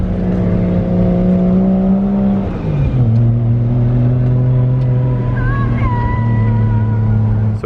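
A drift car's engine idles and revs in a sustained, loud drone as it heads out onto the Nishi track in Matsuri for night drifting. The pitch drops and settles partway through, and a faint higher whine rises near the end.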